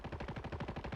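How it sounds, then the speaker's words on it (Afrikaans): Rapid automatic gunfire in a competitive video game scrim, a steady stream of about a dozen evenly spaced shots at moderate distance, faint and alone with no talk over it. "Skote wat nou geskiet word daar op Metal, maar dit is Stef wat daar uitgehaal word."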